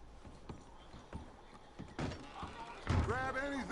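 Horses shift and clop their hooves in a video game camp scene, a few soft scattered thuds and movement noises, then a horse whinnies near the end while voices speak.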